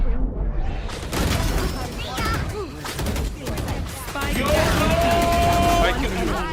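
Rapid gunfire from a competitive shooting video game, with bursts of shots and impacts over busy game sound that stays loud throughout.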